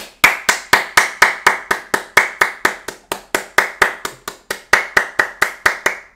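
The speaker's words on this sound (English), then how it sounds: "Round of applause." A single person clapping alone in a slow, steady round of applause, about two dozen sharp, close, distinct claps evenly spaced, with nothing else in the background.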